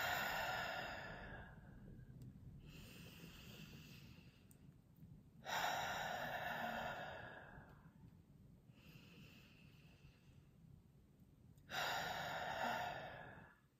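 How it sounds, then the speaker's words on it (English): Three slow, deep breaths, each a long airy inhale and exhale, close to the microphone with quiet pauses between them. "Three deep breaths, that's all."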